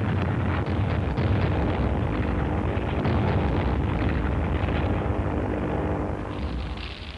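Archival wartime soundtrack of warplanes bombing Manila in early December, with a continuous loud roar of aircraft engines and rumbling explosions filling the whole stretch, dense and low-heavy, with no voices.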